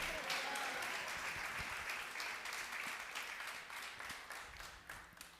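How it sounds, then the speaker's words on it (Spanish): A church congregation applauding, a dense wash of many hands clapping that stays steady and fairly distant throughout, slowly thinning toward the end. "Denle un aplauso fuerte al Señor"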